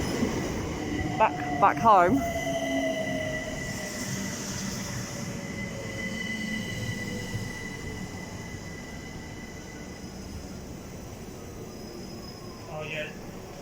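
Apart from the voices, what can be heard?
train arriving at Greenwich station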